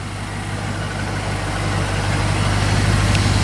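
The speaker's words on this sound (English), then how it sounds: "It's got duals going all the way out the back with some chrome tips and some glass packs." A 1974 Chevrolet Monte Carlo with a 350 V8 idles through dual exhaust with glass pack mufflers, a steady loud low rumble that swells slightly, recorded close with no talking.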